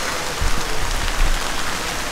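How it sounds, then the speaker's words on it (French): A sudden rain shower in a park in Bratislava, with a steady, dense hiss of falling rain and a few low rumbling swells, continuous throughout with no voices. "Il s'est mis à pleuvoir d'un coup."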